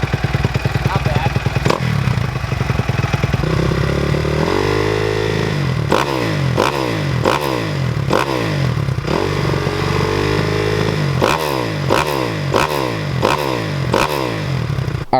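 A dirt bike engine starts and revs, loud and close, with repeated sharp throttle blips over a steady idle that rise and fall in pitch throughout.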